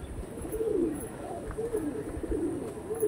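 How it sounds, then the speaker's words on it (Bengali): Jamuni Panja pigeons coo in soft repeated rolling phrases, close and fairly quiet, over a faint background hum with no clear talk. "সব আজকে জামুনি পাঞ্জারই পায়রা আছে।"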